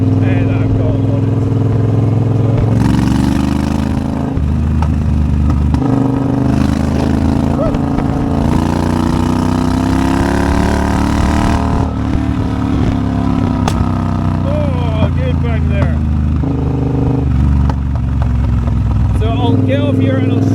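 A Triumph Bobber motorcycle with an aftermarket exhaust rumbles loudly in third gear, its engine rising and falling with wind noise and intermittent exhaust pops, while a rider talks over it.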